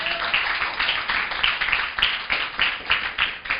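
A church congregation claps in a steady rhythmic beat, about three claps a second, fairly close and sustained throughout, with no speech over it.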